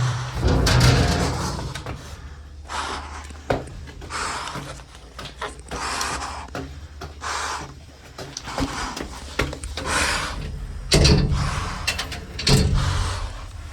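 A locked door in the University of Idaho steam tunnels is tugged and rattled in repeated close, clattering bursts over a low hum, with no voices.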